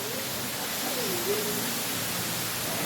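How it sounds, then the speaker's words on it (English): Sai Yok Noi waterfall in Kanchanaburi, a steady, dense roar of rushing water filling the scene evenly, with a faint brief voice-like murmur underneath midway. "The waterfall."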